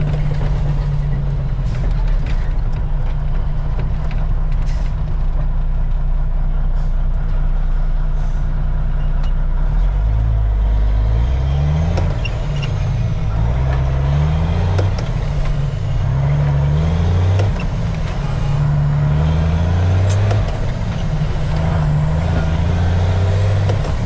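A semi truck's diesel engine runs steadily at close range, a deep continuous rumble with rhythmic low pulses building in the second half, plus faint clicks and hiss from the truck above it.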